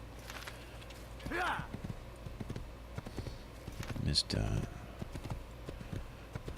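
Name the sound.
horse hooves, video game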